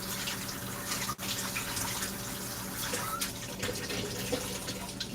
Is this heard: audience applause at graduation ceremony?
no